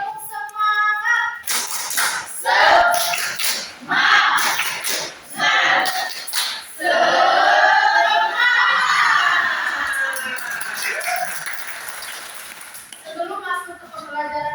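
Indonesian schoolchildren in a classroom break into a loud unison shouting chant with rhythmic group clapping in sharp beats, followed by a sustained cheer from the whole class.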